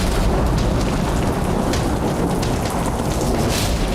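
Heavy rain pours down in a dense, loud roar with low rumbling that fits thunder beneath it. The sound is steady and close for the whole stretch, with no speech.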